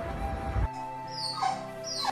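A dog recovering from neutering whimpers close by, giving thin high whines and squeaks that rise and fall after a short burst of noise at the start.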